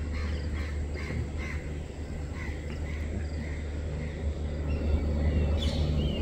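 Crows cawing in a noisy outdoor setting at the National Zoological Park in New Delhi, repeated harsh calls at middle distance over a steady low rumble of background noise, with no talking.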